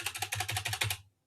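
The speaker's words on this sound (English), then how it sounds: "it's picking up every single thing, like keyboard" Quick, close keyboard typing, a rapid run of clicking keystrokes that stops abruptly, leaving silence.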